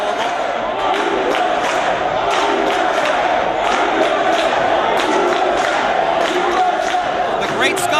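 A pro-American wrestling crowd chants USA throughout, a dense, steady roar of many voices with rhythmic chanting and scattered shouts that never lets up.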